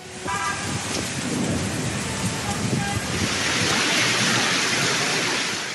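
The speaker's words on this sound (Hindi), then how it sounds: "इस्लामाबाद में शदीद बारिश और जालाबारी ने तबाही मचा दी।" Heavy rain pours steadily during a thunderstorm in Islamabad, with thunder rumbling underneath throughout and the downpour swelling louder and denser toward the end.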